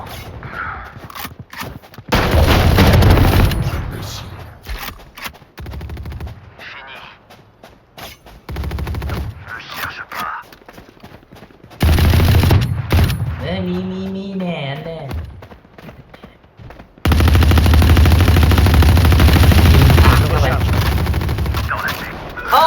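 Gunfire in the tactical shooter Valorant comes in loud bursts of rapid shots, separated by quieter stretches with game sounds and a voice speaking.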